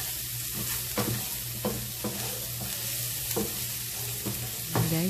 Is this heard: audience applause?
no